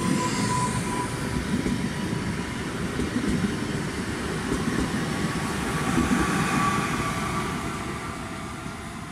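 A Regio regional train pulls away from Goleniów station, a steady rumbling roll with wheel noise and a faint high tone, loud and close throughout.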